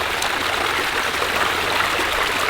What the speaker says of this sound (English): look at how we start getting more water. Yes. Flowing down that way. Coming through there.